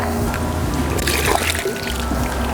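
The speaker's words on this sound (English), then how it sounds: "Put some water in it." Water is poured into a pool pump to prime it, a gurgling, splashing pour close by over a low steady hum, with the flow thickening briefly midway.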